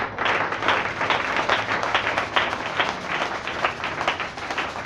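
Church congregation claps and applauds together in a dense, continuous wash of hand claps, fairly close and steady throughout, with faint cheering mixed in.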